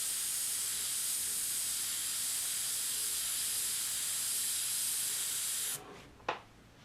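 An airbrush sprays in a steady, loud hiss that runs unbroken for several seconds, then cuts off, followed by one short puff of air and quiet.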